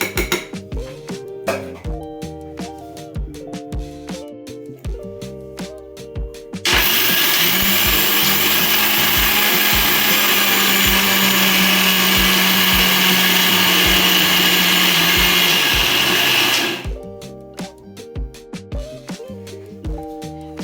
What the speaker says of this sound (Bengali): একইভাবে আরও একটু চাল রয়ে গেছে আমার, এটারও ওরকমভাবে পেস্ট তৈরি করে নেব।